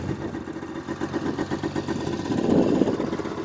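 A 2001 Ski-Doo Formula 500 snowmobile engine runs steadily up close, a rough two-stroke drone that grows louder and busier toward the end, with no talking.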